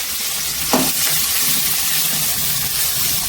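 Onions and curry leaves fry in a pan for a Tamil kuzhambu, a steady, close broadband sizzle with a brief sharper crackle near the start and no voices.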